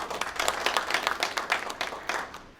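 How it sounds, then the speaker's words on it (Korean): A church congregation applauds to welcome a missionary speaker, a lively, fairly close burst of many hands clapping with distinct individual claps, fading at the end. "나오실 때 박수로 환영해 주시면 감사하겠습니다"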